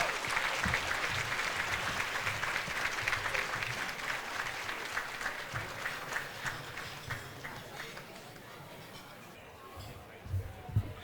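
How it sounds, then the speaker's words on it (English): A crowd at a masquerade gala applauds steadily, the dense clapping gradually thinning out and fading toward the end. "So let's have a round of applause for Thelma."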